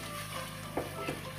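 Masala gravy for shahi paneer being fried and stirred in a pan gives a steady, close sizzle, broken by a couple of brief stirring scrapes.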